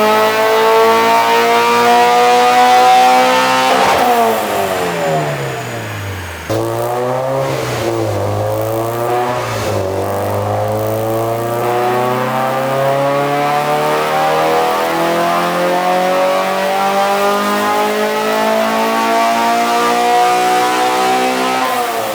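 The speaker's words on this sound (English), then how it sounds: "VTEC sounds so rowdy on this engine" A high-revving Honda K-series VTEC engine on a dyno screams loudly and steadily, with a sharp pitch jump as VTEC engages on the climb, holding a rowdy howl under load.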